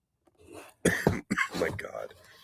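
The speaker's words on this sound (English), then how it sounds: "I'm still recovering from this leftover cough." A person recovering from a lingering flu coughs a few times in quick, harsh bursts close to the microphone, with throat-clearing sounds mixed in.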